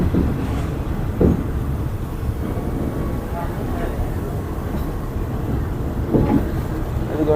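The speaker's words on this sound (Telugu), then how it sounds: "చూడండి ట్రైన్ ఎలా తీసుకుంటుందో టర్నింగ్" A train crossing the wooden viaduct of the Death Railway near the Kwai River Bridge in Kanchanaburi, Thailand, giving a steady low rumble and rattle of carriages with occasional clanks, under someone talking.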